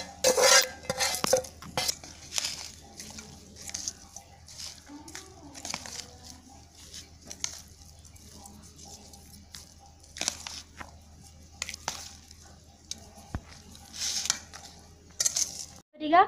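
Tamarind rice being mixed with chutney and a tempering, a spoon scraping and clinking against the vessel in irregular strokes, with soft mushy stirring sounds between, close up.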